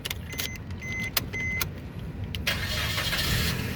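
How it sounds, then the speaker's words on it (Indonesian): A 2014 Suzuki Ertiga 1.4 GL automatic starts up: clicks and key jingles, a short crank, then the engine catches and settles into a steady close idle. "berikutnya kita coba nyalakan mobil ya"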